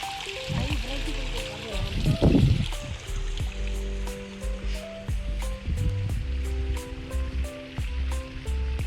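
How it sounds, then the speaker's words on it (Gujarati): An electric water pump motor runs while water gushes and overflows, a steady close hiss and splash with a low hum, while voices talk over it. "મોટર બંધ કરી દઉં, ઉભરાઈ જુ પાણી."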